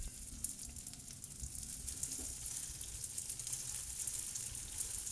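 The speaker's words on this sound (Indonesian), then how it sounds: "Goreng di minyak panas." Frozen nuggets crackle and sizzle in hot oil, with a dense, continuous spatter of soft pops and hiss at a low, even level and no voices.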